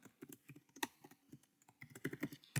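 Quick, light tapping on a computer keyboard as a name is entered into a web form, an irregular burst of soft close-up keystrokes with a short pause partway through.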